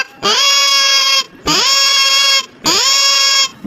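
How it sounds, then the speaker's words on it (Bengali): Three loud, drawn-out bleats like a calf's from a Tom and Jerry cartoon dubbed in Bangla, each about a second long and separated by short pauses, close and clear. "এই বাছুরটা এভাবে মা মাসি কাকিকে ডেকে কাঁদে কেন রে?"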